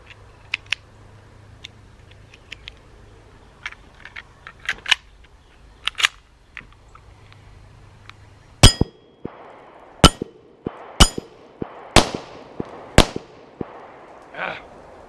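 Hi-Point C9 pistol firing Norma Hexagon match ammo outdoors: sharp, loud gunshots, a few scattered early shots then a rapid string of about eight reports with ringing echoes, no talking.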